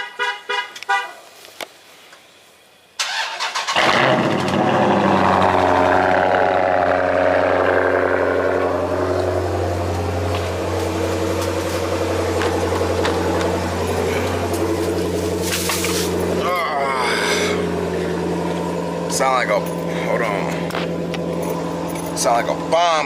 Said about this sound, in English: so we're gonna get this little cold start for y'all.